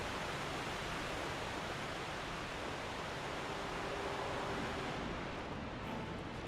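A waterfall in the video game Dark Souls 2 roars as a constant, dense broadband rush, steady and quiet throughout, with no speech.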